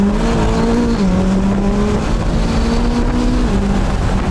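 McLaren 570S engine droning loudly up close, a steady tonal hum with small pitch dips as revs shift, continuous and alone without any voices.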